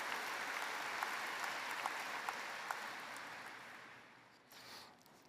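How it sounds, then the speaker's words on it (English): An audience at a Gold Medal of Merit ceremony claps for the VP-40 squadron, a fairly faint, even roar of applause with a few sharper single claps before it thins out and fades near the end. "Let's give VP-40 a round of applause."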